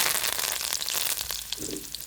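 Mustard seeds, dried chillies and curry leaves tempering in hot coconut oil give a brief, loud, close sizzle with sharp crackles and pops.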